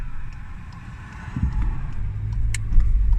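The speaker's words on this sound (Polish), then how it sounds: "Poczekajcie chwilę, bo to auto jedzie." A car drives past on a road near a rural agritourism farm, its low engine rumble swelling over a few seconds as it approaches.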